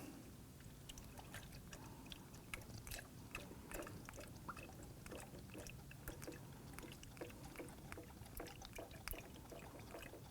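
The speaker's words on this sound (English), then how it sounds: "Using a clean funnel and the appropriate coolant, let's go ahead and fill this up." Coolant pours through a funnel into the reservoir of a 2003-2014 Volvo XC90 3.2L L6, a faint, steady trickling wash with small splashes and no speech.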